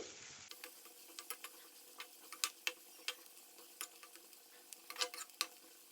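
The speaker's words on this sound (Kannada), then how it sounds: "ನೋಡಿ ಈರುಳ್ಳಿ ಈಗ ಫ್ರೈ ಆಗಿದೆ ಚೆನ್ನಾಗಿ ಹೊಂಬಣ್ಣ ಬಂದಿದೆ" Onions fry in hot oil in a pan for a mixed vegetable kurma, giving a quiet, steady sizzle broken by sharp crackles and pops scattered irregularly, with no talking.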